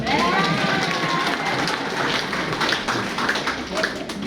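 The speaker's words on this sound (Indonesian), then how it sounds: "Tepuk tangan dong." An audience claps together at an Indonesian talk event, dense, steady applause with cheering voices, close and loud throughout.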